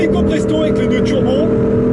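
A 2014 BMW M3/M4 with a twin-turbo six-cylinder engine drones loudly and steadily under acceleration, heard from close by as someone talks over it.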